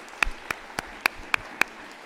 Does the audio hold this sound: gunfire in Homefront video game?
no